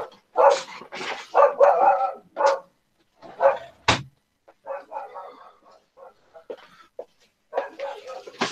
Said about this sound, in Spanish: se fue a ladrar